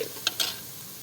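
Onion and vegetables cook in a pan with a brief, soft, steady sizzle and a couple of light taps from stirring.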